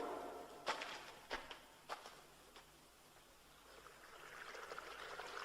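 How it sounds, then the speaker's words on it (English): An underground stream flowing through a hill gives a faint, steady trickle and rush of water, with a few sharp scuffs or footsteps early on and the water swelling slightly toward the end. "It's an underground stream flowing through the hill, to find an opening where it can rush out."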